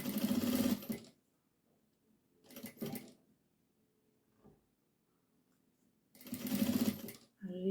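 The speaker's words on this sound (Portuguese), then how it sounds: "E passo uma costura bem na beiradinha aqui." Sewing machine running a stitch along the very edge of a small diaper piece, heard in three loud bursts of close, rapid stitching separated by quiet pauses with faint handling noise.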